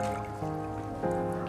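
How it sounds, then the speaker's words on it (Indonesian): Water poured from a scoop onto the soil of a potted plant, a continuous trickling pour with a faint tonal hum underneath, close and steady throughout. "kita siram basah untuk medianya."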